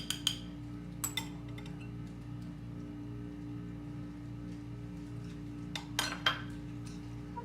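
A utensil clinks against a bowl while tuna salad is mixed, with a few sharp metallic taps near the start and a cluster toward the end over a quiet steady hum.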